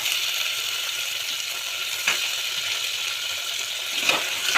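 Tomatoes added to a pan of garlic and green peas for Vidarbha-style dal khichdi, giving a steady close sizzle with a couple of brief stirring clinks; no talk.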